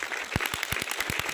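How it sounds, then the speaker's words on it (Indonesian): An audience clapping for Prudential at a talk: a short burst of close, regular hand claps in a quick, even rhythm. "Boleh kasih tepuk tangan buat Prudential."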